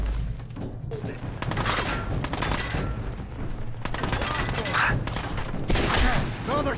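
Repeated gunfire in the video game Fallout 4, a dense run of sharp shots and thuds with game music and effects underneath, fairly loud throughout and intensifying near the end.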